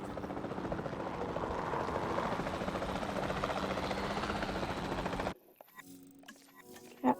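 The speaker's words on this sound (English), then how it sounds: "Then the sensible thing is to take a capture team helicopter." Capture team helicopter in Jurassic World Evolution 2, a steady loud rotor whir lasting about five seconds before cutting off abruptly to near silence.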